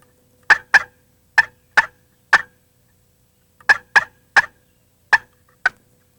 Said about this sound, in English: Repeated calling by Brad and the weakening return call by the gobbler